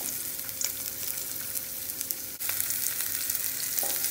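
Onions frying in hot oil on a gas stove for a Maharashtrian hari mirch thecha, a steady close sizzle with crackling pops throughout and no talk.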